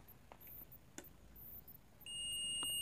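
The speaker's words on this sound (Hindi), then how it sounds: "तो यहाँ पे हमारा बीप साउंड सुनाई दे रहा है" A multimeter in continuity mode tests the fusible resistor of a Bajaj LED bulb, giving a few faint clicks and then a sustained, loud, high-pitched continuous beep that starts partway through and runs to the end.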